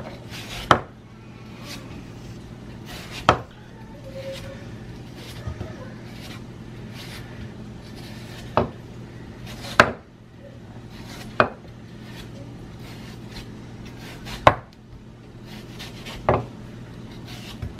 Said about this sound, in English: take your knife and start trimming the kind of rind part off the top part